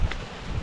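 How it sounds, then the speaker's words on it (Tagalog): Strong wind at a mountain campsite in Atok, Benguet, blowing close and loud as a continuous low rumble of buffeting against the microphone, with no voices. "Napakalakas ng hangin."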